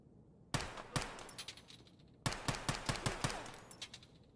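Gunfire in the shooter game Escape from Tarkov: two sharp shots, a pause, then a rapid string of about eight cracking rounds, fairly close and with no talking.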